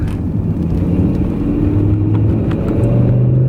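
The 5.0-litre V10 of a BMW E60 M5 rumbles close by, holding a low steady idle with a slight rise in revs and a smooth whirring drone, no voices.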